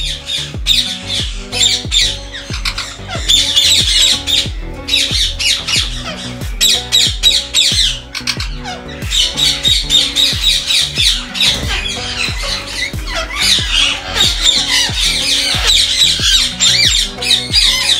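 Ringneck parrots in breeding season squawk loudly and repeatedly in a close, busy chorus of harsh shrill calls that continues almost without pause.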